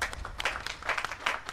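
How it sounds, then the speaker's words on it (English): Church congregation at a Janani Luwum commemoration service in Uganda gives a big round of hand clapping, a dense, steady wash of many claps filling the space, fairly faint and continuous throughout. "Like to give God a very big hand clap"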